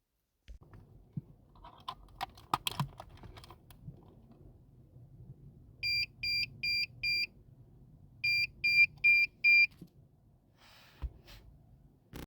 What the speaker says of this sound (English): you will hear audible beeping